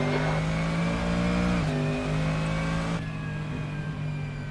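A loud, sustained S5000 race car engine roar in Assetto Corsa at Tailem Bend, with shifting pitch, dipping briefly and then settling into a steady high drone.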